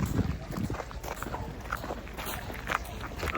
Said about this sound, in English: Let's enjoy the sound of stepping on the gravel as we walk forward, one step at a time.